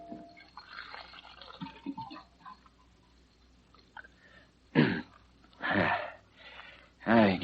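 Water pouring from a water cooler as a radio drama sound effect, a few gurgling, splashing bursts that grow louder toward the end, with speech earlier.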